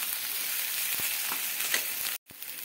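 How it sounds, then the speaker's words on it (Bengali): Green peas fry in a pan over a medium flame, a continuous close sizzle broken by light stirring scrapes, briefly cut off near the end before resuming, with no voices. "কড়াইশুঁটিটা দেওয়ার পরে এবারে আমি মিডিয়াম ফ্লেমে রেখে এটাকে এভাবে নাড়তে থাকবো।"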